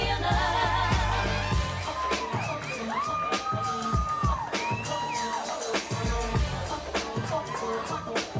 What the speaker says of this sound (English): keep that round of applause going for Courtney Rooney, escorted by Billy Hackett.